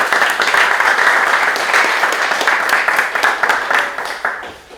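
A football team gathered together claps loudly and close, a dense burst of many hands that holds steady, then thins out and fades toward the end.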